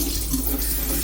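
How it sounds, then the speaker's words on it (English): Tap water runs in a steady stream over a butternut squash cut in half, washing dirt off the cut halves in a kitchen sink, a continuous close splashing hiss with no talk. "if you just cut it in half, fray it, and run the water through it on both sides"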